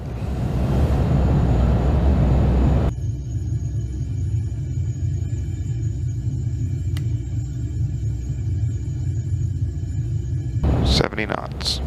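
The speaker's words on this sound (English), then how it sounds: "Spoilers are deployed. And reversers are unlocked and they're out." Airliner thrust reversers after touchdown in a home-cockpit flight simulator: a loud, broad roar for about three seconds, then a steady lower rumble with a thin whine that holds until a few clicks at the end.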